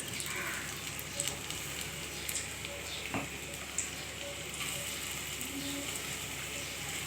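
Small hinche leaf fritters sizzle and crackle in hot oil, a soft, steady frying hiss with scattered pops and occasional stirring clicks, faint and close up.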